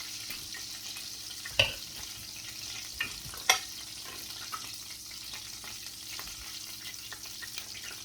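Meatballs frying in a pan for homemade meatball subs, a steady low sizzle throughout with a few sharp clinks or taps standing out, no talking.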